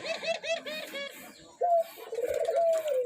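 Pigeons in a nest with young coo in a quick series of soft repeated calls, then a longer, louder drawn-out coo follows, close and clear with no talking.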